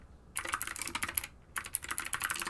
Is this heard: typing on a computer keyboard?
yes